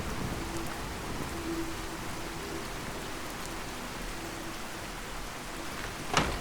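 Steady rain falls in the Fallout 4 game world around a settlement deck, a continuous hiss of drops with a faint low rumble and one sharp crack near the end.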